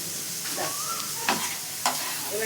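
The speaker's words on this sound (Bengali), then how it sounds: "এবার এটা ভালো করে কষানো হবে।" Spinach paneer being stirred and fried in a pan with turmeric and chilli powder, a steady sizzle broken by a couple of sharp spoon scrapes against the pan, close and fairly loud with no talk.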